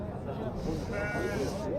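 Sheep bleating at a busy sheep market, where rams are being sold, with wavering bleats rising over a steady hubbub of nearby voices.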